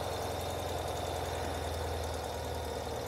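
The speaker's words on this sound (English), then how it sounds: "So we're gonna start with starting the bike." A modern Ural motorcycle engine idles steadily just after starting, a close, even mid-low chug with slightly high RPM and a constant mechanical rattle, no voices over it.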